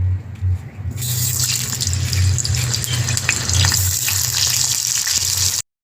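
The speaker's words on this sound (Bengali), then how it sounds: "এখন আমি বিরিয়ানির জন্য আলু ভেজে নেব।" Potatoes soaked in turmeric water fry in hot oil for biryani, giving a steady, close crackling sizzle with a low hum underneath that carries on without pause and then stops abruptly at the end.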